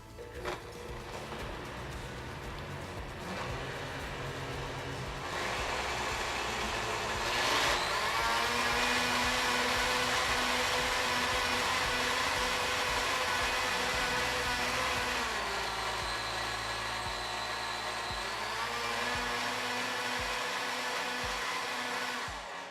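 A Blendtec Designer 725 blender motor hums steadily for a long stretch on its built-in cleaning cycle, its pitch shifting a few times as the cycle changes, with no talking.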